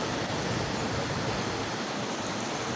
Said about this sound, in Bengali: চতুর্দিকে বৃষ্টি পড়ছে